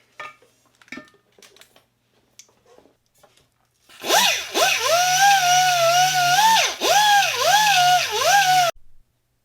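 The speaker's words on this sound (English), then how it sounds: "now I'm going through with a metal polish and just polishing that out" Metal polish being worked over sanded metal with a power buffer: after about four seconds of near silence, a loud, steady whine starts up, wavers in pitch as the load changes, and then stops abruptly.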